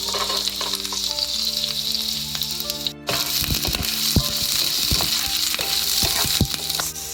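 Ginger and garlic sizzle loudly in a frying pan for a stir-fried tofu dish, a dense, close hiss running steadily throughout, with a brief dropout midway and a few scraping stirs and clinks afterward.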